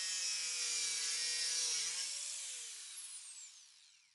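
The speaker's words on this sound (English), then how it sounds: "Cutting in a straight line with the SawMax is easy because it provides a great view of what you're cutting" A compact SawMax saw cuts wood for a corner shelf, giving a steady, close, high whine that slowly fades and winds down as the cut finishes.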